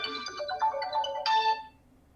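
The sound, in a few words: mobile phone ringtone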